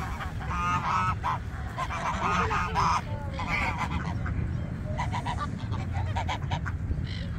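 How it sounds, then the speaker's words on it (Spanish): A group of ducks and geese honk and squawk repeatedly nearby at Punta Mogotes, overlapping calls continuing throughout over outdoor background noise. "Y también hay patos, a ver."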